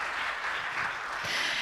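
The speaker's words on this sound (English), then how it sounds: "We're just gonna clap for everybody." A church gathering audience claps together, a dense, steady patter of applause heard briefly and at moderate distance with no talking over it.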